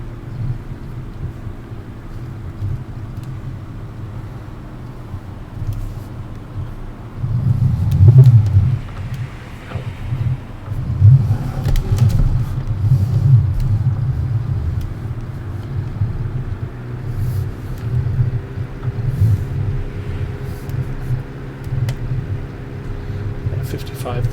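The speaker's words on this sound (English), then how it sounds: "The trucks will do 70 because I specified the big engine." A truck with the big engine drives along in Farming Simulator 17: a steady low engine drone rises and falls with the throttle, and someone talks over it almost all the way through.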